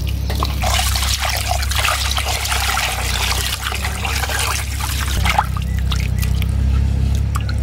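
Running water rinsing goat stomach tripe by hand in a Bengali home kitchen, a steady close trickle and splash with squelching handling throughout, no talking.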